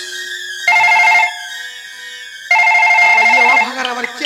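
A telephone rings loudly and close in two electronic trilling bursts separated by a short pause, with music playing faintly underneath.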